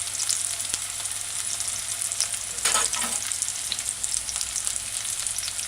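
Sweet potato rundung cooking in a pan, with a loud steady sizzle of frying oil close by and a brief stir-like swell midway, no voices.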